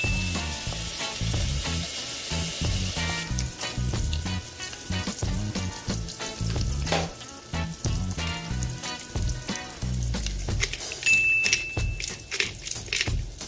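Onion and then garlic sizzling in hot oil in a frying pan: a loud, steady, crackling fry with constant popping, close up and continuous, with occasional stirring and no talk.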